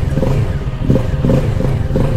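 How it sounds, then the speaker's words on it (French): A small motorcycle on a licence-test practice track gets throttle blips to keep it from stalling as it pulls away, the mid-pitched engine note rising and surging in short rhythmic bursts, loud and close, with no talk. "Je donne du gaz parce qu'elle a tendance à caler cette petite meule."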